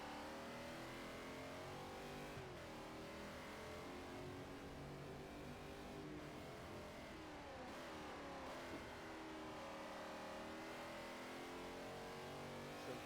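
A lazy V8 LM race car engine in Forza Motorsport 4 drones and revs steadily throughout, loud and close, with pitch sweeping up and down as the car accelerates and eases off.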